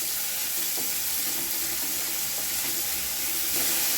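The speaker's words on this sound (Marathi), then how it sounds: "आता हा कांदा चांगला भाजून घ्यायचा." Chopped onion frying in a pan for baingan bharta, a loud, constant crackling sizzle with faint stirring underneath and no voices.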